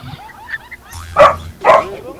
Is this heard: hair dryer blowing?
no